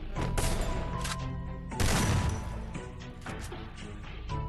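Rapid bursts of M10 gunfire in the game Free Fire, loud and dense, with a sharp heavier crash in the middle and repeated shots that fade in and out.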